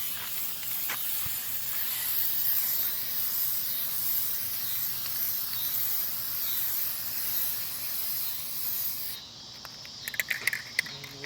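Aerosol Plasti Dip rubber coating sprayed onto a car grille, a steady broad hiss running for about nine seconds before cutting off, followed by a few faint clicks and taps.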